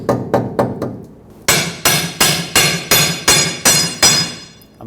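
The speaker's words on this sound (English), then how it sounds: "I'm pulling back as I'm hammering." An air hammer strikes a lower control arm bushing on a Chevrolet Colorado in sharp repeated blows, four quicker hits followed by eight louder, evenly spaced metallic impacts ringing close by.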